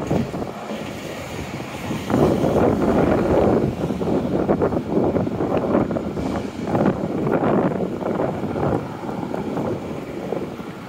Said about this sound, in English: Quite a bit of wind blowing here.